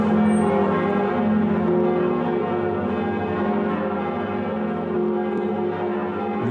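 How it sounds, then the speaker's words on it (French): The bells of Notre-Dame de Paris cathedral ring together in a rich, sustained, overlapping peal with long resonant tones, heard close and loud without any voices. "l'autre instrument de Notre-Dame, ce sont les cloches"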